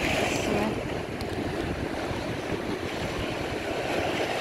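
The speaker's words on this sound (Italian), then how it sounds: "E comunque onde pazze." Big waves crash and surge on a windy shore near Gallipoli in Puglia, a steady loud roar of surf mixed with gusting wind noise on the microphone, with no voices.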